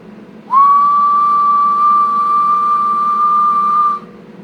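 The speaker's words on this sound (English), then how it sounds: "That's why I'm whistling into it." A steady whistled tone is blown into a stock SR98 CB microphone feeding a Toshiba 2879 four-pill mobile amplifier; the single sustained note holds evenly for about three and a half seconds, loud and close, with no talking.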